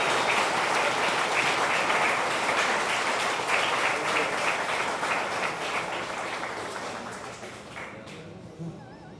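A crowd at a high school athletic Hall of Fame ceremony gives sustained applause for the inductees, dense steady clapping that slowly fades toward the end.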